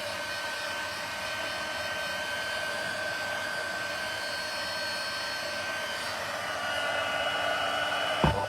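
A heat gun or hot-air blower warming gold foil on a handmade Christmas tree decoration gives a steady, close airy whoosh that runs unbroken throughout, with a faint tonal whine inside the rush and a brief bump in level near the end.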